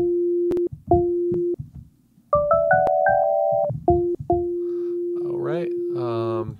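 A synthesized key click layer tuned an octave higher, part of a village-style game music patch: short clicks mark the start of each note in a simple sustained melody, and a voice speaks briefly near the end.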